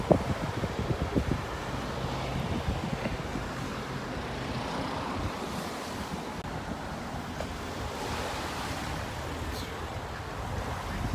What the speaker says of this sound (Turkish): güzel bir rüzgar esiyor.